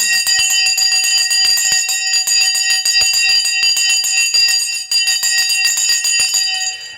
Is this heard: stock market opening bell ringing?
yes